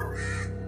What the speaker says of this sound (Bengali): মাঝরাত হলেই গলা দিয়ে বিশ্রী রকমের কাকের মতো শব্দ বেরোতো